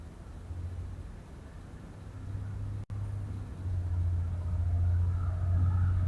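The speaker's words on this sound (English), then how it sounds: "Okay, I think that's him driving off. That's the recycling truck." A recycling truck pulls away as a low, steady engine rumble that grows slightly louder and fuller toward the end, heard from a distance with no talk.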